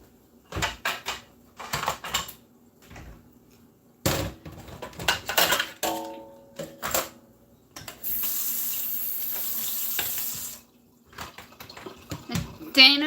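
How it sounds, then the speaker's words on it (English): Tap water runs into a kitchen sink for rinsing sweet potatoes, a steady rushing stream of a couple of seconds midway, surrounded by dish and colander clatter and someone talking. "The water's going to be running for a minute because I'm going to rinse these sweet potatoes."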